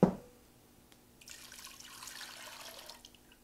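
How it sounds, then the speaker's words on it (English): Apple cider vinegar trickles into a measuring cup for bread and butter pickles, a soft, faint liquid pour running for about two seconds after a sharp knock at the start. "So I'm just going to put a little apple cider vinegar in there just so it equals 2 cups."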